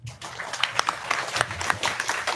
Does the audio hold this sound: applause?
yes